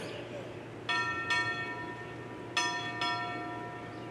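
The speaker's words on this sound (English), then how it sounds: "Tom Orley, strike 4 bells." A bell rings out four times in two pairs at a naval change of command ceremony, each ring clear and sustained, over a low background hum.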